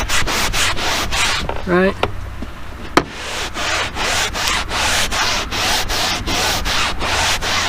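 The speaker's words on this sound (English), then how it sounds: "I'm lightly misting it with the spray and then hitting it with the brush" A brush scrubs rhythmically in short repeated strokes across the fabric headliner of a 2007 Chevy Tahoe after a misting of Lithium Auto Hyper Cleanse spray. The strokes are close and steady, and a voice briefly speaks partway through.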